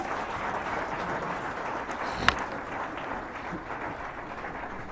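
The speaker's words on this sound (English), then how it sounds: "Please, another round of applause." A conference audience at a political gathering in Nigeria gives another round of applause, a dense sustained wash of clapping from a large hall with one sharp knock partway through.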